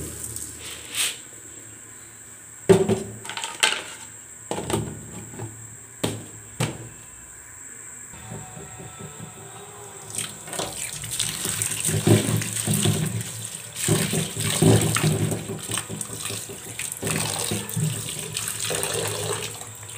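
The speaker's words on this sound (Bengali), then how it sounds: "অলমোস্ট ডালটা আমার ধোয়া হয়ে গেছে।" Lentils (dal) being rinsed in water in a home kitchen, with splashing, swirling and running-tap sounds, intermittent knocks and clatters at first, then steadier washing noise, close and moderately loud with no talk.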